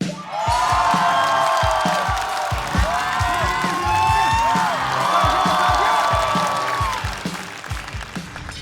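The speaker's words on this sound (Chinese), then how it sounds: "掌声欢迎杨蒙恩" A stand-up comedy show audience welcomes comedian Yang Meng'en with loud, sustained applause, cheering and whoops, a dense, continuous crowd roar that holds for several seconds before easing off.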